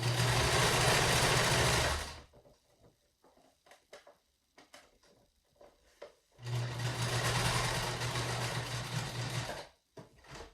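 Sewing machine stitching a pleated fabric face mask, running in two loud, steady bursts of several seconds each, separated by a quieter stretch of scattered small handling sounds and clicks.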